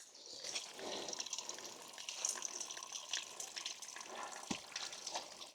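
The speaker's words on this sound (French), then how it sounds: "il y a de l'eau qui coule" Water trickles and flows steadily inside a limestone mountain cave in Savoie, a close, continuous liquid burble with small splashes and no voices.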